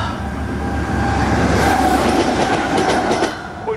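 A rail grinding train starts moving along the track, a loud, close, continuous rumble with rising metallic screech and rhythmic clicks, with no voices.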